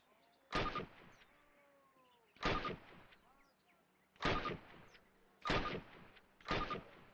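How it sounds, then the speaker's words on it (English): Five sharp, loud single gunshots fired at a target on a video game firing range, spaced about a second or more apart, each followed by a short ringing decay. "Approach the fence and fire 6 rounds at your target."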